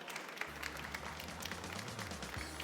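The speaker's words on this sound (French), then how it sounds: "on vous applaudit de nouveau" Audience applause at an awards ceremony for a prize winner, a steady wash of clapping from a crowd filling the hall, fairly even throughout with a low hum beneath.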